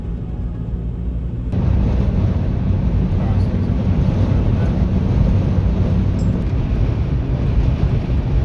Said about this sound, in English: Winds, they are so strong